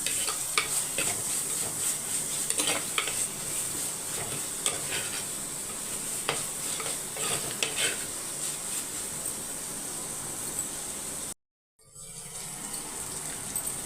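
Chili powder and mutton masala sauté in a pan, with a close, continuous sizzle broken by scraping stirs. The sound cuts out for a moment near the end, then resumes.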